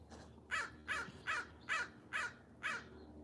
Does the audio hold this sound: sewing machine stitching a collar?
no